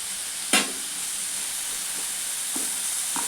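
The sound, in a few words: coriander seeds frying in oil for village-style biryani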